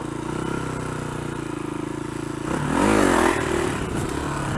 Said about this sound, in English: Doesn't mean I can't fuck about doing wheelies though.